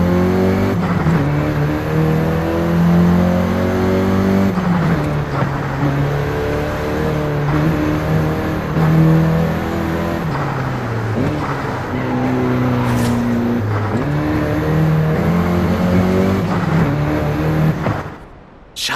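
Volkswagen Golf GTI hot hatch engine revving loudly and steadily in the racing game Forza Horizon 5, rising and falling through gear changes for about eighteen seconds before cutting off abruptly.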